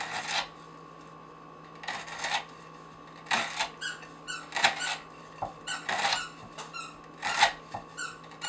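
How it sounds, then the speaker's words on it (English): A dog squeaks its toys in the background of a room, sending repeated irregular bursts of high squeaks over a steady electrical hum, with no talk. "I don't know if you can hear my dog. He's back there squeaking toys."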